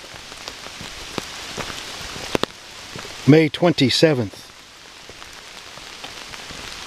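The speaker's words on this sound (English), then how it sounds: "It is rainy and muddy." Steady rain falls on surfaces throughout, a dense even hiss with scattered drop ticks, while a voice speaks briefly partway through.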